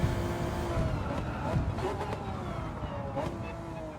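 A Honda NSX GT500 race car in Gran Turismo 7, lapping Tokyo, its engine note rising and falling through the revs with steady road and tyre noise underneath.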